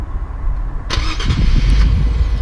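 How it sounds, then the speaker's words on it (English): A 2017 INFINITI Q50 Sport engine, started by remote start, cranks and catches, then settles into a steady idle close by, with no talking. "you can hear the engine start up"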